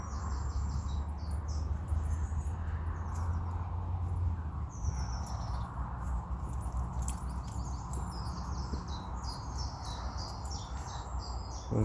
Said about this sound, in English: Just enjoy the sound of the bird song.